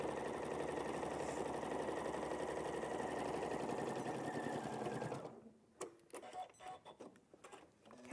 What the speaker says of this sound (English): just going to sew all the way around that pocket.